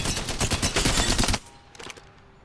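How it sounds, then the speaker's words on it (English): Heavy gunfire from a powerful, slower-firing gun in the video game Apex Legends: a fast, loud string of booming shots for over a second, then a short pause and a couple of fainter trailing shots. "The rate of fire is slower, but you can hear the power in this gun."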